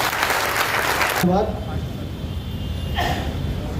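Applause from a crowd at a youth political gathering in Samastipur, honoring an election candidate; dense clapping fills the opening second, then drops away behind a speaking voice and background murmur.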